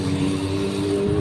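A motorcycle on a charity group ride passes close by, its engine a loud steady drone with a faint pitch shift across a brief moment.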